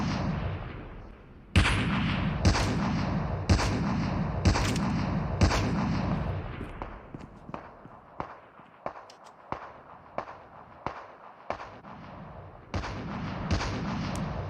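Rapid gunfire bursts in the battle royale mobile game Call of Duty Mobile, loud cracking shots in clusters, then sparser single shots with short gaps, and a final dense volley, over a steady background of game ambience.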